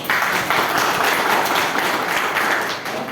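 Dense, continuous applause from an audience at a health awareness presentation, steady clapping filling the space for a few seconds without pause.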